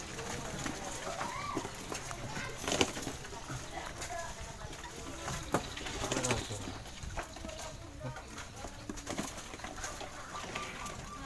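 Local zebra doves coo in a group, soft rolling calls repeating amid a busy bird-market background of rustling, knocks and people talking.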